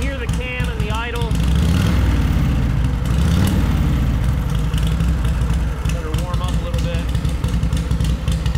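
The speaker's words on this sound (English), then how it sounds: "a little bit shorter straight pipe than a standard knucklehead. You can hear the cam and the idle." Knucklehead motorcycle engine idling through a short straight pipe, a loud, steady, lumpy throb with cam clatter close by, while voices talk over it at times.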